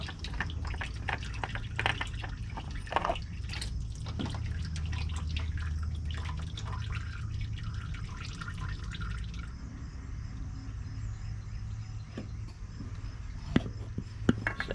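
Engine oil from a John Deere 1025R compact tractor dripping and trickling into a drain pan, a steady faint liquid patter with scattered sharper drips and some handling clatter near the end.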